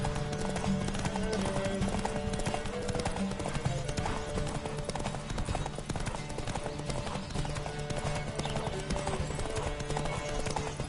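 Rapid horse hoofbeats in The Witcher 3: Wild Hunt clatter in a steady galloping rhythm, loud and continuous, over a dense layered background of game sounds.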